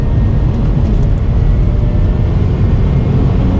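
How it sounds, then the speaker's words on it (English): A Mazda RX8 rotary engine heard from inside the car gives a loud, dense, steady roar with heavy low rumble and broad noise, sustained throughout without pauses or talking. "just the engine, the way it's revving"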